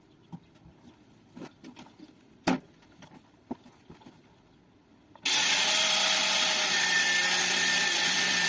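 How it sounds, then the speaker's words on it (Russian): Power tool cutting the head off a bolt: after several scattered clicks and taps, a loud steady high-pitched grinding whine starts abruptly and runs continuously to the end. "Далее будем сейчас отрезать вот эту вот шляпку."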